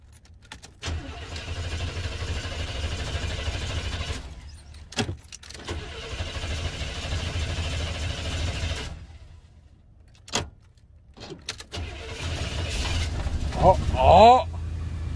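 A 1992 Cadillac Fleetwood Brougham engine cranks and fires up, then runs, with bursts of loud engine noise broken by short gaps. Someone shouts excitedly near the end.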